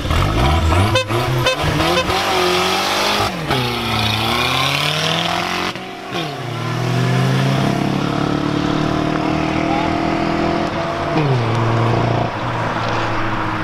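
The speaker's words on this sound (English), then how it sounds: "So the race between the Audi and the Volkswagen." Two cars, an Audi and a Volkswagen, race past with loud engines revving and rising through gear changes, the pitch climbing and dropping repeatedly over a steady roar with no talk.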